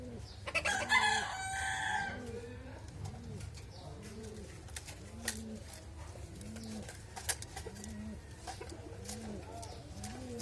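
Pigeons imported from abroad as original racers coo in repeated soft, rhythmic calls through a loft, with brief louder fowl-like calls and crowing near the start and occasional sharp sounds above the steady murmur.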